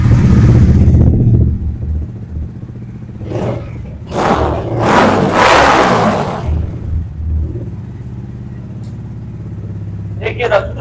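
Blue 2023 racing motorcycle with an aftermarket exhaust, idling with a low rumble and then revving in a few loud bursts. Someone talks over the engine throughout.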